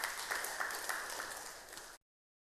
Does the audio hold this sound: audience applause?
yes